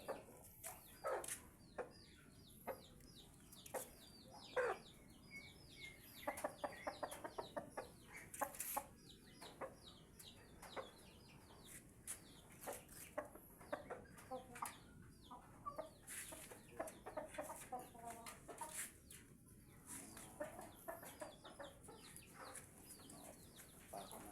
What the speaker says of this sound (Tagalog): meron din po tayo mga native na manok.